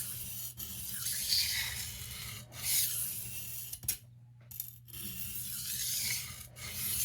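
Steady abrasive rubbing as the bevel is cut into an 8 inch carving knife, a continuous gritty rasp with a few brief pauses between strokes, close and moderately loud.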